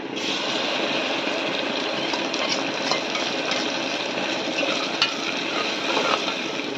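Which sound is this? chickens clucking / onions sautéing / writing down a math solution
onions sautéing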